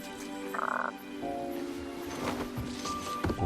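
Frog croaking in King's Quest (2015), a few short buzzy croaks with soft rustling and squishy sounds around them, fairly close and without talk.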